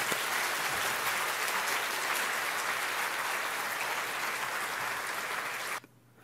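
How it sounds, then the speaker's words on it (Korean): Steady, loud clapping from a church congregation welcoming a pastor to the pulpit, a dense even burst that continues for several seconds and then cuts off abruptly into near silence. "우리 박수로 힘차게 맞이하겠습니다."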